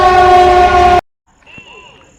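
A train passing near Kanhangad on a Kerala railway sounds its horn, a loud, steady, close blast held for about a second that cuts off sharply, leaving faint background sound.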